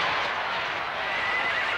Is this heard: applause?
no